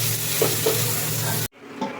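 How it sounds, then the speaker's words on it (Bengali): Vegetables with baby corn frying in a pan as they are stirred, with steady sizzling and a few soft scrapes, then a sudden drop to quiet with light clinks. "এবার ভালো করে একটু নাড়াচাড়া করে মিশিয়ে নেব।"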